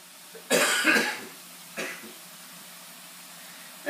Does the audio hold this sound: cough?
yes